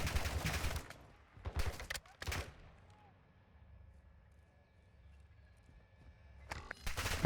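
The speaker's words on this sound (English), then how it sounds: "Gotta figure out where they're shooting from." Gunfire in the Call of Duty MW2 DMZ video game, heard as loud bursts of shots near the start, around two seconds and again at the end, with quieter ambience between.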